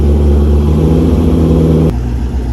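An LS-swapped E46 BMW engine runs loud and close with a steady rev-like tone, then drops abruptly to a lower, rougher note near the end.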